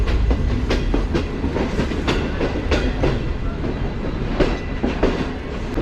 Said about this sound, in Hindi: हमारी ग्रीन लाइन जो है ये प्लेटफॉर्म नंबर 3 पर जा रही है